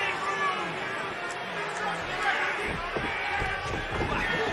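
A split crowd fills a Ring of Honor wrestling arena during a TV Championship match, a steady roar of chatter and shouts with occasional thumps from the ring and commentary voices over it.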